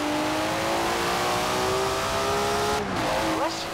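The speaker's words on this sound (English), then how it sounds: "Never heard a Datsun sound like that, have you?" A Datsun's engine revs hard in the Forza Horizon 4 racing game, a loud, sustained rising and falling whine that climbs through the gears, with a brief tire squeal near the end.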